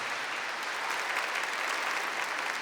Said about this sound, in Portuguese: Vamos aplaudir com toda a força e de todo o coração a palavra de Deus para nós.